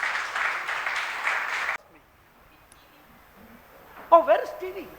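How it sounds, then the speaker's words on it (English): Audience applause at a book launch for a historian and environmentalist, a broad burst of clapping that stops abruptly after about two seconds, followed by quiet room noise and a voice starting to speak near the end. "Can we please have a huge round of applause for him,"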